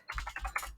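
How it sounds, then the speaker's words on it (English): Quick burst of typing on a computer keyboard, a handful of soft rapid key taps close by over faint background hum. "I'm going to go ahead and type Gandhi paragraph"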